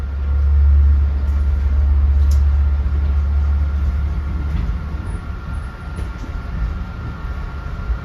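LIRR train equipment rolls into Huntington Station for an eastbound move, a loud, close rumble that swells early, then settles into a steady rolling drone and slowly eases off.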